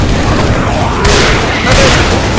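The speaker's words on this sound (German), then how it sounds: "Ich schmeiß einen Molly." A Molotov cocktail thrown and bursting into flames in Left 4 Dead 2 on the Dark Carnival campaign: a dense, loud whooshing burst of fire that flares around the one-second mark and again later.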